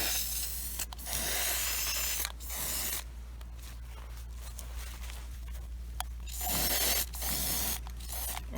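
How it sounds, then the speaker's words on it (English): Spray paint hisses onto turquoise antique cabinet parts in several short, close bursts, separated by quieter gaps with light handling noise. "I flipped them and I'm gonna spray them as well"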